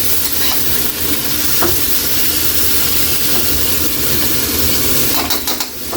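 Pork sotanghon being stirred in a hot pan: a steady, loud sizzle runs throughout, with a few scraping knocks from the utensil and no talking.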